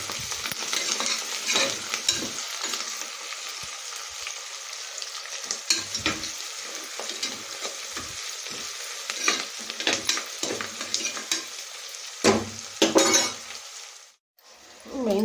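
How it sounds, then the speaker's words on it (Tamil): Onions fry in a pan for mushroom biryani, a close steady sizzle broken by frequent scraping and clinking stirs of a spoon against the metal, with a short quiet gap near the end. "வெங்காயம் போட்டு வெங்காயம் வணங்கிட்டுருக்கு"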